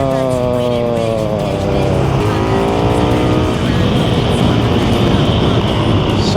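A KTM Superduke 1390R Evo motorcycle accelerates hard on a street, its engine note climbing through rising harmonics in a loud, continuous roar close to the rider.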